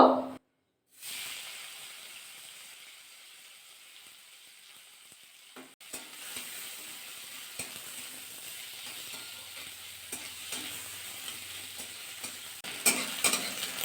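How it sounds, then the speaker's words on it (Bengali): Steady sizzling of chopped onion frying in oil after a brief loud burst at the start, with occasional stirring clinks and scrapes; no talking. "পেঁয়াজটা কিন্তু ভাজা হয়ে গেছে সুন্দর"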